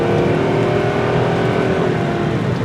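A Honda Odyssey minivan with a suspected loss of power and failing brakes, its engine revving hard under acceleration, a loud steady roar with a droning tone filling the cabin, heard alone without talk.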